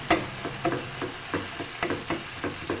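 Spiced potato slices with fenugreek leaves fry in oil, a soft continuous sizzle broken by periodic stirring scrapes roughly every half second, close and moderately loud.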